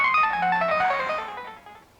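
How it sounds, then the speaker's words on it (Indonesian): A mobile phone's ringtone plays out in a single bright melodic burst that fades over about two seconds, loud and close, with no talk over it. "HP Om Gembul bergerak adik-adik"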